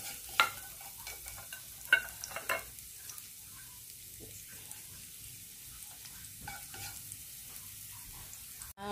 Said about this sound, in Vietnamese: Lúc chảo mình nó nóng thì chúng ta sẽ cho tỏi rồi chúng ta phi cho nó thơm nha.